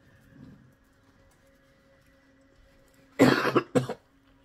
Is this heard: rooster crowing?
no